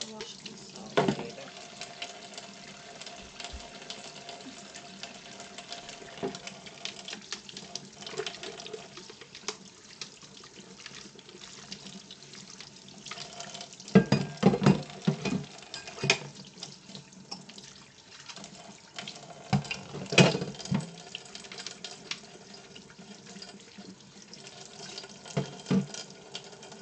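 A tap runs into a kitchen sink during washing up, giving a steady faint hiss with occasional louder splashes and clatters, and brief speech now and then.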